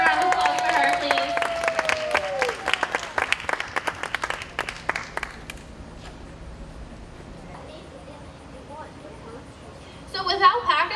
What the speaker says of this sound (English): Can we get a round of applause for her, please?